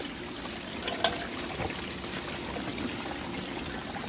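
Water sprays and trickles steadily at low volume off a highbanker sluice used for gold mining, a continuous hiss with a faint splash partway through.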